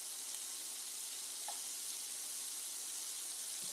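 Ground beef browns in a pan with a steady, faint sizzling hiss that runs unbroken throughout, with no talking.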